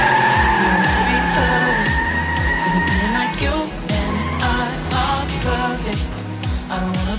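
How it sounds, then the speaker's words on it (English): Racing car engine roaring with tire squeal and skidding, loud and continuous throughout, set against pulsing music. "Racing car."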